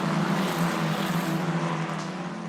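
Formula 4 race cars scream past on the Vallelunga circuit in Italy, a loud, sustained high-pitched engine whine with steady harmonic tones that fades slightly toward the end, with no voices.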